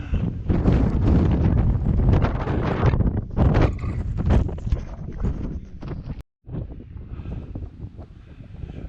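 Strong wind on the exposed Moel Siabod ridge, loud, rough microphone buffeting that roars almost continuously, cutting out for an instant near the end before gusting back a little softer.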